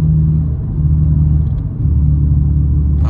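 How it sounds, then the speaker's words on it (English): A car with a worn wheel bearing gives a loud, low droning rumble and hum while driving, steady with a slight dip partway through, and no one speaks. "My wheel bearing's gone, making a little bit of a noise."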